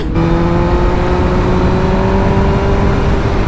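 A 2023 BMW M1000R motorcycle's loud, close engine drone with a raspy, dark exhaust tone, holding a steady pitch throughout.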